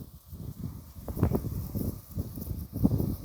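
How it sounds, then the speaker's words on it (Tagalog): Strong storm wind gusts through leaves, swelling and easing in waves, with a few soft knocks mixed in. "Lakas ng hangin."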